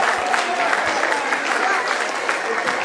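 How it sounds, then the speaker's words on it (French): Sustained applause from a large audience at a celebration, a dense, steady wash of many hands clapping at once with a few cheers, holding at an even level throughout with no pause. "applaudissez, il faut applaudir"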